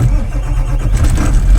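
A truck engine cranks and turns over, a loud continuous low rumble that builds into a rougher running idle toward the end, close by with no talking.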